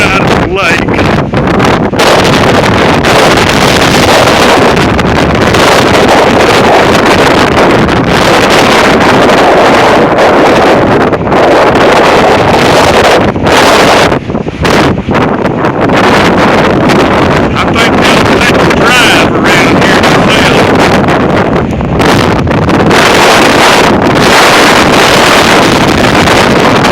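Strong gusting wind during a windstorm by a lake, roaring and buffeting loudly against the microphone without letup, with brief crackling bursts throughout.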